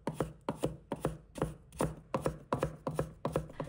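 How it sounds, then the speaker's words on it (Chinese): A knife chops a small piece of carrot on a cutting board, giving crisp, evenly spaced close knocks in a steady rhythm of about three per second, with no talk. "再准备一小段胡萝卜，先把它切成片，"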